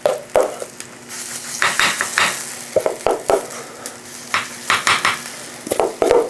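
Batter cooks in cast iron pans, a soft steady sizzle under repeated clinks and scraping of a utensil against the metal, fairly close.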